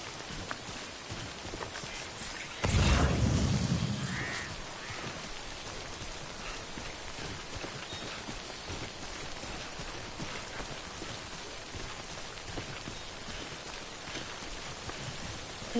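Steady rain falls across the landscape in the video game Death Stranding, a constant wash of patter heard alone throughout, with a louder, heavier burst of noise near the start.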